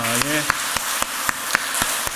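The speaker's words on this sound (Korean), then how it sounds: "박수하겠습니다" A church congregation applauding at a Sunday service: brief voice at the start, then steady, rhythmic clapping over a broad hiss of many hands.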